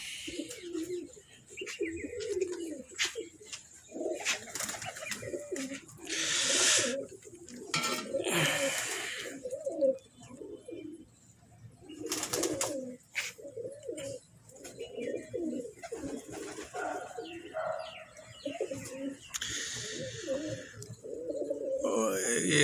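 Many pigeons coo on a high rooftop, with repeated throaty cooing phrases that overlap in an irregular rhythm, close and fairly loud, mixed with wing flutters and faint rustling.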